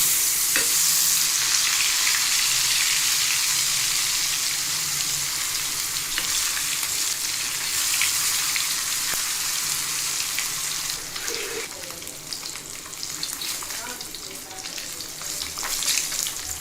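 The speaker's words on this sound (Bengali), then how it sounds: "তেলটা যখন গরম করে নেওয়া হলো তখন আমি লবণ হলুদ মাখা কই মাছগুলো তেলের মধ্যে ভেজে নিচ্ছি" Koi fish coated in salt and turmeric frying in hot oil, a loud continuous hissing sizzle that stays close and steady throughout, with occasional stirring sounds and no talking.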